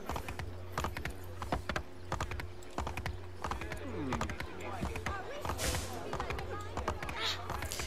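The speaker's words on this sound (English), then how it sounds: "And don't mind me, I just stole a horse." Horse hooves clip-clopping at a quick rhythmic gallop in Assassin's Creed 3, steady close thuds with a brief whinny and game ambience, someone talking over part of it.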